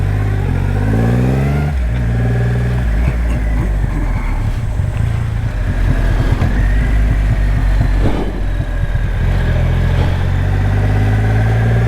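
A Triumph Rocket 3 R motorcycle with its 2.5-litre engine being ridden, producing a loud, continuous engine drone with rising and falling revs and gear changes, heard up close.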